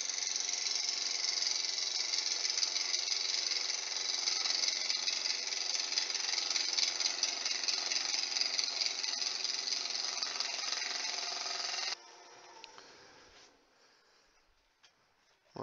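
A wood lathe turning a wooden Easter egg gives a steady, loud, high-pitched whirring hiss of the tool cutting spinning wood for about twelve seconds, then the sound stops and fades to faint clicks.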